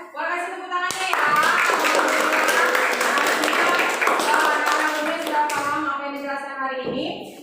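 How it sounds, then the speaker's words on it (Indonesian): Classroom applause from children, a burst of hand claps that starts abruptly and continues steadily for several seconds, moderately loud with some voices mixed in near the end. "boleh kasih tepuk tangannya ya"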